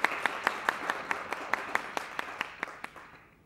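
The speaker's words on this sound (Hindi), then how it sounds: "तालियां।" Sparse, evenly spaced handclaps ring out at a theatre play performance, each sharp clap distinct, slowing and fading toward the end with no other sound over them.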